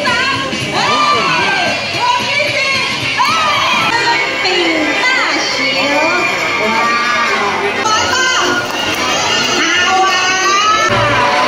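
Dense crowd at the lion show at Safari World Bangkok, children shouting and cheering with whoops over steady loud chatter, continuous and close throughout.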